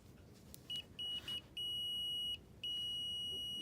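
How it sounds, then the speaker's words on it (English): A multimeter continuity test: a few short electronic beeps, then two long steady high-pitched tones, loud and close against faint background hiss. "Continuity beeping."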